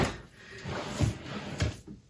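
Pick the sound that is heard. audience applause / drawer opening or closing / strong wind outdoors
drawer opening or closing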